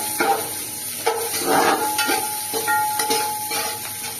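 Onions and green chillies fry in a pan for spicy chicken pulav, a steady nearby sizzle with several scraping stirs at irregular intervals.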